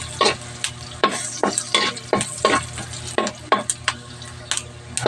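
Garlic sizzles in a hot pan while being stirred for a sautéed mixed-vegetable dish, with repeated scraping strokes of a utensil over a steady frying hiss.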